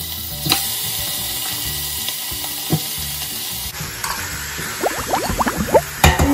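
Meat goes into a hot pan with browned onion and garlic, setting off a steady close sizzle with scraping stir strokes and a few sharp clatters, the frying growing busier toward the end.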